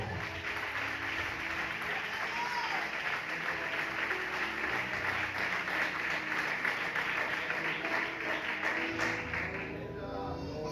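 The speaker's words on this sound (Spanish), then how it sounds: "Aplauda a Dios, por favor." A church congregation applauds together in a steady, sustained wash of many hands clapping. The sound stays fairly faint and even for the whole stretch, then thins out near the end.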